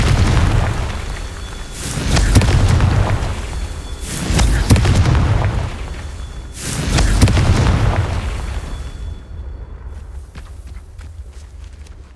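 A Confringo fire spell explodes in the video game Hogwarts Legacy, three loud booming blasts spaced a few seconds apart, each with a deep rumbling tail, and a quieter scene after the last one.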